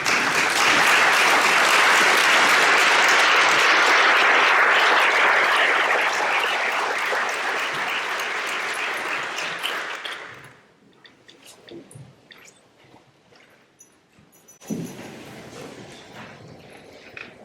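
Audience at the closing plenary of the 2023 Fishing Differently conference applauding to greet Dr. Roslyn Artis, loud dense clapping that fades and stops around ten seconds, followed by quiet room noise and scattered faint knocks.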